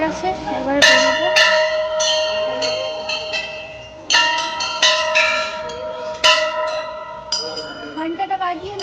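A temple bell at the Madpur Manasa temple is struck several times at uneven intervals. Each ringing tone overlaps and fades into the next, with voices in the background.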